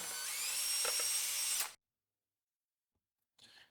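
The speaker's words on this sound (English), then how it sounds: "And I'm going to use my stirring implement. Mix it up really well." A power stirring implement whirs loudly while mixing wine must in a kitchen, a high, steady motorized whine for under two seconds that stops abruptly, followed by silence and a brief faint rustle.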